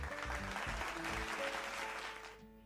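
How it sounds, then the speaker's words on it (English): A round of applause in a children's English lesson, with brisk clapping and cheering at moderate loudness that fades near the end. "You deserve a round of applause."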